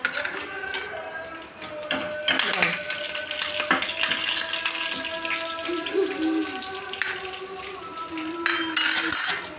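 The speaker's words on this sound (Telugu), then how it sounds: "తాలింపు వేస్తున్నాను." Tempering (talimpu) sizzles in hot oil for charu, a steady crackling fry with clinks of a pot and utensil stirring, heard close under a faint voice.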